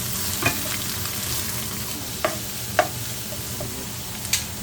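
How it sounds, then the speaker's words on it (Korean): Onion and carrot sizzle steadily in an oiled frying pan as they are stir-fried, with a few sharp spatula scrapes and clicks against the pan; close and continuous, no voices. "기름 두른 팬에 양파와 당근을 먼저 볶아줍니다."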